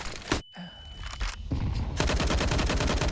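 Grenades burst in a Counter-Strike pro match, a sharp blast and a short tone followed by a second, louder roar of dense crackling explosions and gunfire, close and sustained.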